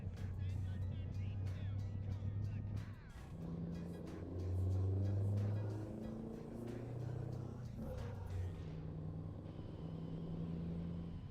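Truck driving in Euro Truck Simulator 2, a steady low engine drone with shifting tonal hum and road rumble, faint and continuous, with a person talking over it.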